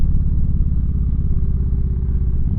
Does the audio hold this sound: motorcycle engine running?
yes